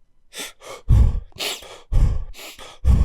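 A man demonstrates a three-part breathing exercise out loud, with several deep, audible inhales and long sighing exhales in a steady rhythm, close and fairly loud, with no talking.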